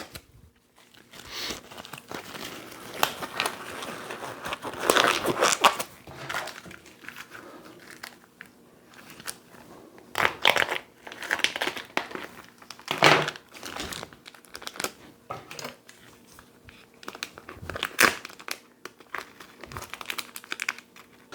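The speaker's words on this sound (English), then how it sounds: "I'm going to go ahead and get this unwrapped so we can get it cut." Plastic packaging is peeled off a beef strip roast from Sam's Club. Loud crinkling and rustling bursts come in irregular clusters, with quieter handling between them, close up and without speech.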